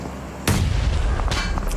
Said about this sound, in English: Nade underneath.